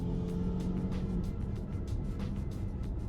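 Volvo XC90 T8 plug-in hybrid SUV with a four-cylinder engine accelerating, heard from inside as a quiet, steady engine and road hum with faint rhythmic pulses of noise throughout.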